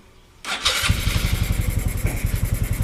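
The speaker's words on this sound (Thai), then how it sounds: "เดี๋ยวสตาร์ทฟังเสียงให้ดูก่อนนะครับ" A stock, untuned 125cc motorcycle engine cranks and fires up, settling into a loud, rhythmic, lumpy idle close by.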